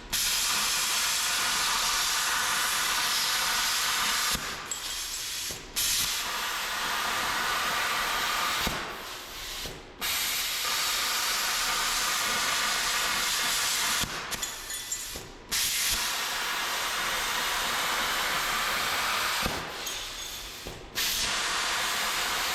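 A bestarc BTC500XP plasma cutter cuts holes in 14 gauge steel, a loud, harsh, steady hiss that drops out briefly between cuts, close and with no talking.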